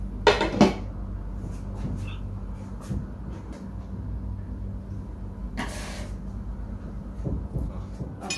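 Lid placed over a kabab pan, with a sharp metallic clank near the start and a second clattering scrape later, over a steady low kitchen hum, with faint talk in between.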